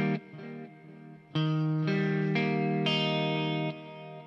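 An electric guitar strums a series of sustained chords, bright and compressed, with a reverberant wash ringing between changes; no voices.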